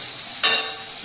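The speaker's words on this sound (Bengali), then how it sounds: "ওদিকে উচ্ছে কুমড়ো ভাজাও হয়ে আসছে" Bitter gourd and pumpkin sizzle steadily in a frying pan, a close, even hiss with a brief louder burst as the pieces are stirred.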